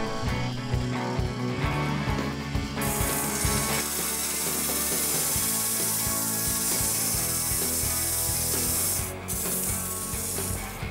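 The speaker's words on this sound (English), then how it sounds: "to smooth out the inside of the cup, I'm using a side cutting scraper" A side cutting scraper smooths the inside of a wooden cup turning on a lathe, giving a continuous close scraping and rubbing over the lathe's steady hum, with a brief pause near the end.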